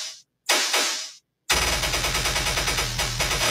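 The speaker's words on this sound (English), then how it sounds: "How about some overly aggressive gun sounds?" Overly aggressive gun sound effects: two loud bursts separated by silence, then a dense, rapid machine gun rattle that runs continuously at full volume.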